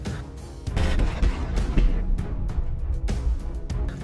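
Heavy booms and blasts from a Godzilla attack on Tokyo erupt in a loud, irregular series, deep rumbling bursts overlapping one another for several seconds.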